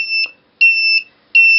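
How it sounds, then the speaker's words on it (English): A DIY laser security alarm kit sounds a loud electronic beep, two bright steady tones pulsing on and off in a repeating pattern with short gaps between them, heard alone. "The alarm will continue to sound until that button is depressed."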